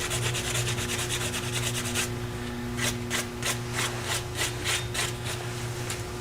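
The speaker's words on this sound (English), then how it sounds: "What I'm going to do is sand this little part off right down here." A small wooden part is rubbed with fine sandpaper in quick, rhythmic strokes, close up and steady over a faint background hum. The strokes become distinct regular swipes partway through, and no one talks.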